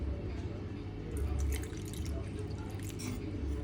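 Water is poured into a bowl of cornflour, maida and salt for Gobi Manchurian batter, making a brief, quiet trickling splash with no talking.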